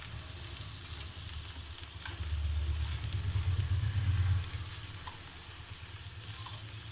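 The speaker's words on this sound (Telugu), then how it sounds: "బరక ఇలా వేసి కలిపేసుకోవాలి" Okra fry is stirred in a pan with ground masala paste, giving a low steady sizzle with scraping stir strokes that swell louder for a couple of seconds in the middle.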